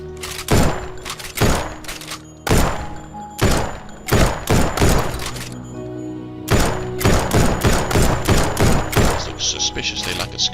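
Bursts of AK-47 gunfire from an indie survival shooter game, loud and close, with clusters of rapid shots separated by short pauses and some lower thumps between them.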